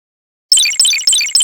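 Looping magic sound effect in a 2D dodge video game, its bright, high, sparkling chime repeating four times in quick regular succession after a short silence, loud and clean.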